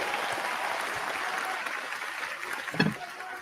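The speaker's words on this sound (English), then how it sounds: "Give them a round of applause." A crowd at a political rally applauds trades workers, a steady wash of clapping heard from a distance, with a brief shout or cheer rising near the end.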